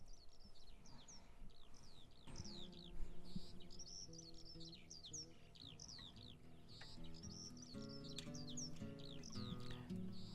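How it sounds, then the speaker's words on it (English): Chirping birdsong from a recording, with repeated high tweets running throughout over a steady acoustic guitar and low musical backing. "They love their use of bird sounds so far in their LPs."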